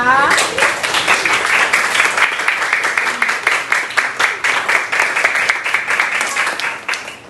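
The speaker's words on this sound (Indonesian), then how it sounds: "tepuk tangan ya" Classroom students burst into applause that settles into brisk, evenly rhythmic group clapping, moderately loud and close, with a voice briefly audible at the start.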